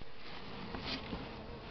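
Bees buzz steadily at an opened hive with few bees left, a dense, agitated drone close up and fairly quiet, with no one speaking.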